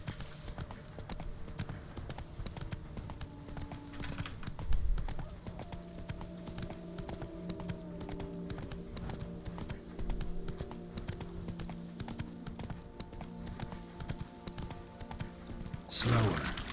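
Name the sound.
horse hooves clip-clopping in video game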